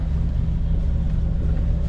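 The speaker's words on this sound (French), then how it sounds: "On part au moteur hein, gentiment." A sailboat's auxiliary engine runs steadily as the boat motors gently out of port, a loud continuous low drone mixed with wind rush on the microphone.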